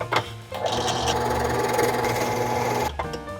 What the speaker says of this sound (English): We're gonna drill a hole right through the middle of this.